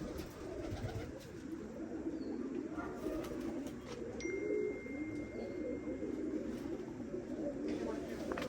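Pigeons coo softly and repeatedly in a steady murmur, with people talking nearby throughout.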